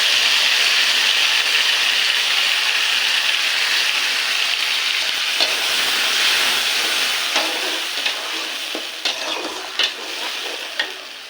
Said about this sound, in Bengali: এটাকে কষিয়ে নেব